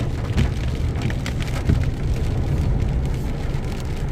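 Steady rain patters on a surface with a dense, continuous wash of drops and a low rumbling undertone, no voices.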